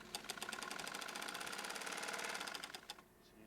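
A sewing machine driven by a roughly 2.5 horsepower motor under its table runs fast and steady, its rapid needle clatter close and even before it stops abruptly near the end.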